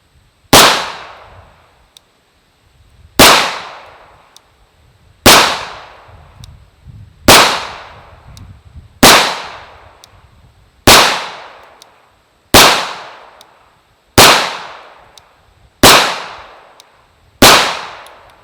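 Ten 9mm pistol shots from a Rock Island Armory 1911 firing 124 grain Armscor ammunition at 7 yards crack out at a slow, even pace, each sharp report loud and close with a short ringing decay.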